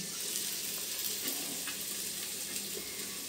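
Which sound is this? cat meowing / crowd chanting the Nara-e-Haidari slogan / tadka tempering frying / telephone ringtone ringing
tadka tempering frying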